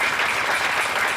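A church congregation applauding loudly together during an evening service, dense continuous clapping filling the room without pause.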